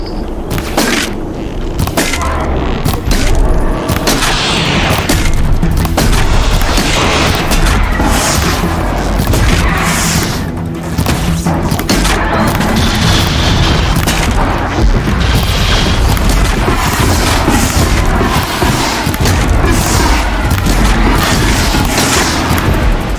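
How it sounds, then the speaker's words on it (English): Explosions in the distance in the video game Horizon Zero Dawn, a run of repeated deep booms and rumbling thuds spread across the whole stretch, fairly loud. "Explosions in the distance."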